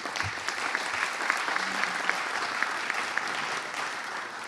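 Steady audience applause for a long-serving mayor, elected ten times since 1975, fills a hall at an event on mayor and police chief partnership, dense and even with a few sharper claps and no talk.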